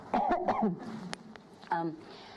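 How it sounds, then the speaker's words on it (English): A few sharp coughs and throat clearing close by, mixed with bits of a voice. "I'm going to cough, sorry. I don't want to cough into my microphone."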